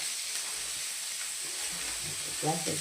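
Fenugreek, curry leaves, coriander and green chili sizzle in hot tempering oil for a prawn kuzhambu, giving a steady, even hiss throughout, with a faint voice rising briefly near the end.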